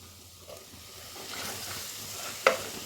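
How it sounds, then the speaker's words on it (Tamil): Tomatoes and onions sauté over a medium flame for roadside-style salna, a soft, quiet sizzle that swells slightly while being stirred, with one sharp utensil tap near the end. "நல்லா தக்காளி வெங்காயம் வதங்கி நல்லா குழஞ்சி வரணும், வேகட்டும்."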